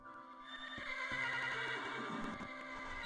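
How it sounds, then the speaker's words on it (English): A horse in the Minecraft video game gives one drawn-out, wavering whinny with faint hoof clops underneath, clear and isolated with no talking. "Dark horse and a brown horse."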